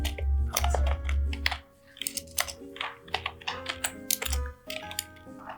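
Keys clatter on a computer keyboard in quick, irregular bursts of close taps, with short pauses between runs and no voices.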